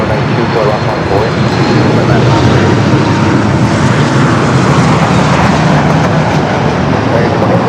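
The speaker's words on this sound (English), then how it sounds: "runway 24 left for the takeoff" A jet airliner takes off from runway 24 left at Los Angeles International Airport, its engines a loud, steady, broadband roar throughout, with tower radio chatter over it.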